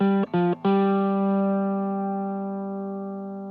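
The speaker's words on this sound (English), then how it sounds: "This is the guitar sound. Just fairly basic. Nice bit of overdrive on it." A distorted electric guitar chord is struck a few times, then rings out alone and decays slowly, with a thick overdriven tone.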